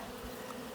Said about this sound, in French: Elle a bonne quantité d'abeilles, mais elle a beaucoup de bourdons.